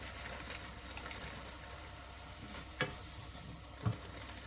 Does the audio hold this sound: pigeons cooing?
no